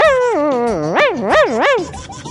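A man imitates a small puppy, voicing loud, close whimpering yips and a rising and falling wavering howl that sounds strikingly like a young dog.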